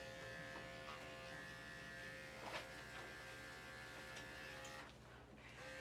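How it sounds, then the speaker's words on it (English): Electric clippers buzz steadily and close up while grooming a matted Shih Tzu Yorkie mix dog, a continuous hum that dips slightly near the end. "So I'm gonna check my clipper blade."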